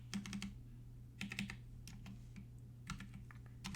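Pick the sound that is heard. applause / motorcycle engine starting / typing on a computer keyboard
typing on a computer keyboard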